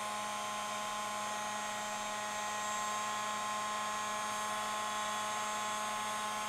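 Heat tool blowing hot air onto a Cricut project piece, a continuous, even whirring fan hiss with a thin tonal whine, close and unbroken, with no talk.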